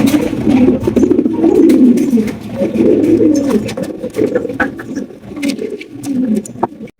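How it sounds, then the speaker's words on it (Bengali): A pair of black King pigeons coos in low, throaty rolling phrases, loud and close, repeating almost without pause, with faint fluttery patter between calls. "একজোড়া ব্ল্যাক কালারের কিং কবুতর"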